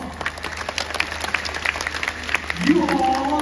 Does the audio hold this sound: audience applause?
yes